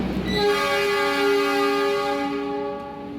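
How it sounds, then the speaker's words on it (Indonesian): Long, loud train horn blast from the Gumarang passenger train at Semarang Tawang station, a steady multi-tone chord sounding close and fading slightly at the end. "yang barusan itu adalah semboyan 35 dari kereta api Gumarang"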